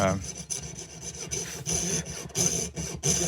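Hand saw blade rasping through wood as the edges of the blade clear material, a close series of rough scraping strokes with short pauses between them.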